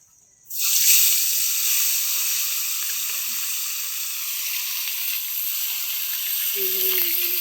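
Mourola fish dropped into hot salted oil in a wok, a sudden loud sizzle that stays steady and bright, with faint clinks and a short bit of talk near the end.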